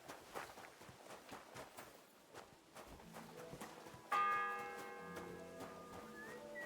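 A church bell rings the sixth hour in Kingdom Come Deliverance 2, striking loud and clear with a long ringing tone after soft footsteps and rustling, fairly close.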